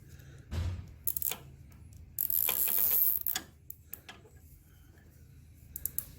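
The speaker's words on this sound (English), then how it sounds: "I'm going to put another tie around this way." A plastic zip tie is cinched tight: a few quick clicks come first, then a loud, rapid ratcheting zip lasting about a second, then scattered soft clicks close by, with no talking.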